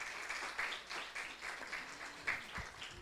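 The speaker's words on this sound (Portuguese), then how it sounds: "Pedia-vos mais uma salva de palmas para este painel que aqui está presente." Soft, fairly distant round of applause for a panel at a conference on citizenship and social inclusion, a quiet continuous patter with no talk over it.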